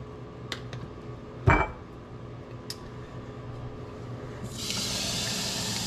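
Water poured from a cup into a ketchup and vinegar sauce mixture while cooking, a soft, steady pouring wash that sets in near the end after a few sharp clinks and knocks.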